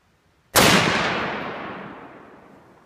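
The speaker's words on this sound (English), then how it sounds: "You're shooting very high." A single loud, close M1A rifle shot cracks sharply, then fades into a long ringing outdoor echo.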